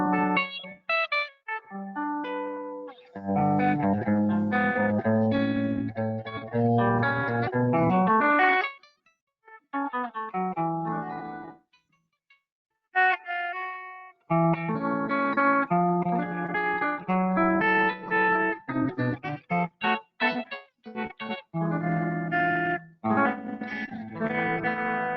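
Clean electric guitar through a compressor and light reverb plays chords and melodic phrases with smooth sustain and a light reverb tail, pausing briefly in the middle before continuing.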